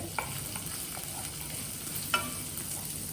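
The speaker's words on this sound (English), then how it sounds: "Stir this. Stir the ginger." Ginger sautéing in a pan hisses with a steady sizzle while a utensil stirs through it, with a couple of sharper scrapes standing out, close and fairly quiet, with no talking.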